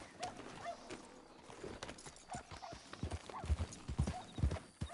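Horse hooves clip-clop steadily in a video game, a moderately loud, uneven run of hoof beats that grows heavier toward the end, with no talking.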